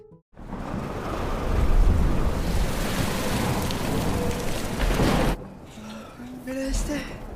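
A heavy thunderstorm pours rain in a loud, continuous hiss with low thunder rumbling beneath, then cuts away abruptly to a quieter scene with faint tonal sounds.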